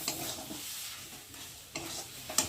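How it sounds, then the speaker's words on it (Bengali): Colocasia with chickpeas, sugar and garam masala is stirred in a pan, giving faint scraping strokes over a soft low sizzle, with a couple of sharper knocks of the spoon. "চিনি আর গরম মশলা দিয়ে একটু ভালো করে নেড়ে নিলাম"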